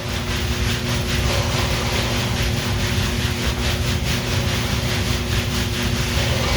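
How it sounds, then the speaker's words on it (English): Hands rub a knee front to back in a steady, continuous, close friction sound with a faint rhythmic swish. Talking is absent. "Rub front to back."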